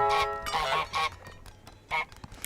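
Cartoonish goose honks from Untitled Goose Game, several short loud nasal blasts in an uneven burst followed by two more spaced honks, with faint game background underneath.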